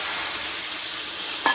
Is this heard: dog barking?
no